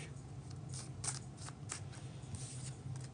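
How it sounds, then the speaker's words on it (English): Tarot cards shuffled back into a deck by hand, soft riffling and sliding flicks in several quick bursts over a low steady hum. "shuffle these cards into the deck"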